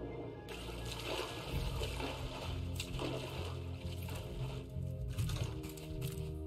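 Water sloshing and gulping as a character drinks in the ocean survival game Raft, a steady continuous wash of liquid sound blended with dense game ambience and music throughout.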